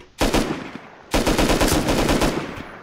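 Rust gunfire in two bursts of rapid automatic shots, close and loud, with a short gap between them.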